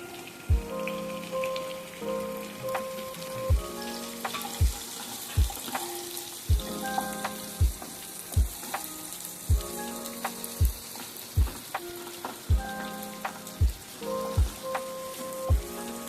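Spiny gourd (kantola) sizzles in hot oil in a pan, a steady crackling fry with regular soft knocks roughly every second, close and without talk.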